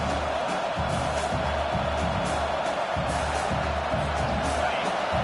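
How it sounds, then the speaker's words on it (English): Football stadium crowd roaring for the defense on third down at a Texas vs Florida game, a dense continuous wash of cheering and shouting with a steady low rumble, no breaks. "Decibels rising as the crowd gets behind this defense on third down"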